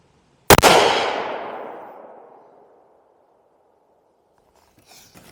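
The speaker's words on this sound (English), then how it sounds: "I'm gonna send 2 more rounds down range and see what happens" A single sharp, loud shot from a .308 rifle firing 180 grain Fusion Tipped rounds, followed by a long echo that fades over a couple of seconds, then faint rustling.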